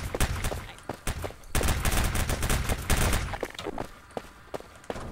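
Gunfire in a Prop Hunt video game: rapid bursts of loud shots and sustained volleys crackle close up, with brief pauses between strings of rounds and little talk.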